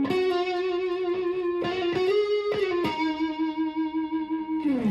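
A distorted electric guitar through an Ibanez Tube Screamer overdrive pedal holds sustained, saturated notes with a few strummed chord hits, loud and steady with a warm overdriven edge.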